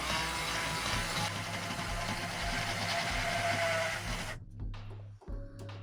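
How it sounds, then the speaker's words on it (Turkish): A blender whirs loudly and steadily while making a chicken breast pudding, a dense motor roar that cuts off abruptly near the end, leaving a few faint kitchen clatters. "Şöyle blenderla yapıyorum."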